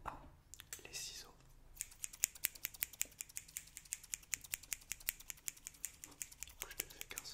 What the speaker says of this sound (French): Numéro 1, les ciseaux.